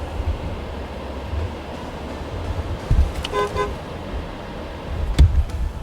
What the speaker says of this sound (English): Luckily over here we can just honk your horn.